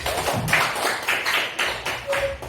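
Students in a classroom clap their hands together in a brisk, steady rhythm. The claps sound close and fairly loud, with no talking over them.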